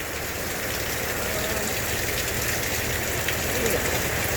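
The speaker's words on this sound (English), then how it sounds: "we'll just keep on dealing with the wind and rain" Steady wind-driven rain on a camper during a stormy Myrtle Beach campground stay, a dense continuous hiss and patter that stays loud and even throughout, with no talking.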